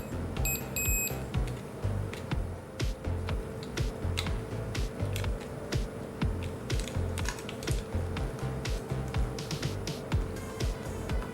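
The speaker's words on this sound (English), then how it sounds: "after the keypad sounds 7 beeps." An illuminated Euro-standard door keypad gives a rapid string of short electronic beeps at the start, followed by repeated clicking key presses and faint mechanical taps, close up with no talking.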